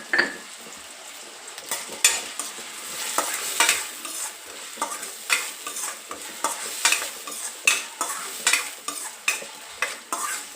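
Tomato tempering seasoned with salt is stirred in a frying pan, the spoon scraping the metal in quick repeated strokes over a soft continuous sizzle, close and with no talking.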